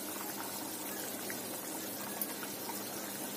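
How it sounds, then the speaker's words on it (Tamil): A pot of sardine fish curry (mathi meen kulambu) simmers with a steady, soft bubbling hiss and faint pops, continuous and close with no speech. "தாளிச்சு விட்டது பாருங்க, நல்லா கொதிச்சுட்டு இருக்கு."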